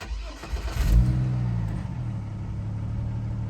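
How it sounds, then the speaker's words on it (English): A 2003 Chevrolet Trailblazer SUV engine cranks briefly and catches, revving up with a rising roar before settling into a steady low idle rumble. "Now let's start it up, see what it does."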